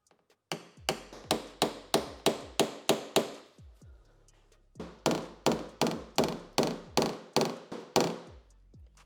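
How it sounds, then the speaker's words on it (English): Steady rhythmic hammer taps with a knockdown on a car panel, about nine quick blows, a short pause, then another run of similar taps, close and crisp. "Now I'm going to go ahead and switch to a hammer and a little bit different knockdown."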